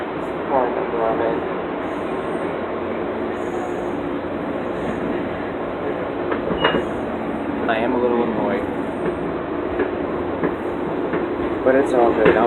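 A crowded transit train rides along with a steady rumbling hum and faint rail clatter, while several voices chatter throughout the car.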